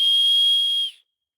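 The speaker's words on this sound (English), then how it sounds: "so I'm going to do a couple of whistles." A single long, steady, high-pitched human whistle held for about a second, then cut off, followed by silence.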